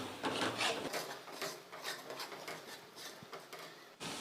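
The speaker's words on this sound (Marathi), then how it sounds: "आता हे वाटण आपण तेल सुटेपर्यंत मस्त फ्राय करून घेऊया" Ground masala paste for Kolhapuri matki misal frying in oil, giving a close, steady sizzling rasp with irregular scraping stirs throughout.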